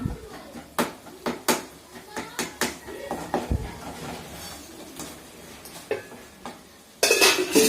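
Onion masala being sautéed in a pan until the raw smell goes, with a spoon scraping and knocking against the metal in irregular bursts, close by, and a louder sizzling rush near the end.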